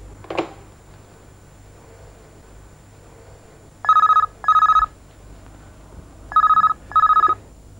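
A telephone bell rings in two pairs of short electronic trills, separated by a pause, in an otherwise quiet room.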